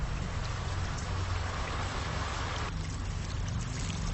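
Rain falls steadily on a city, a dense, loud, unbroken hiss and patter of drops with no pauses.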